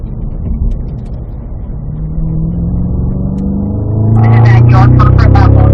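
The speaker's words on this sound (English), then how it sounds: "fourth gear on the straight, we'll start building up that pace." A car in fourth gear accelerates down a track straight, its engine drone climbing steadily in pitch and growing much louder and fuller near the end.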